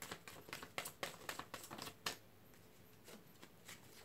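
Brisk riffling of tarot cards, several quick bursts in a row, close by, then a softer tap or two as the deck settles.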